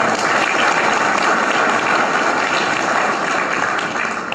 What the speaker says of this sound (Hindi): तो मैं चाहूंगा सबके लिए एक बार ताली।